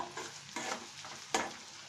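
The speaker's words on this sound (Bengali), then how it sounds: "পানিটা শুকিয়ে পেঁয়াজটা নরম হয়েছে আর কিছু অংশ ভাজা ভাজা হয়েছে" Fresh onions frying in a pan with a soft sizzle, broken by a few brief stirring scrapes, quiet and close.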